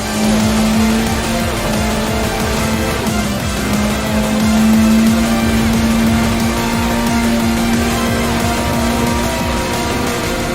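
Turbocharged, engine-swapped Mini Cooper racing in Gran Turismo 7, its engine a loud, steady high-revving drone with a sustained whine that holds through the whole stretch, no speech.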